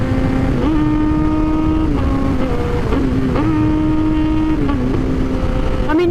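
Motorcycle engine droning loud and close while the rider downshifts quickly, the pitch jumping up sharply in several quick blips between steady stretches, rough and continuous throughout with no talking.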